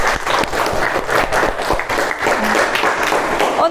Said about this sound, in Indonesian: Beri tepuk tangan untuk Mbak Sophia.